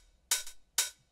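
An open hi-hat sample, unlike a 909 and panned left in a deep house mix, sounds twice on its own; each is a bright, airy hiss, the first with a slightly doubled, fluttering decay.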